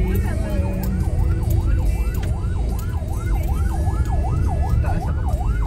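A police siren wails in a steady, repeating up-and-down sweep, loud and close, over rumbling traffic and engine noise, with a voice briefly audible underneath.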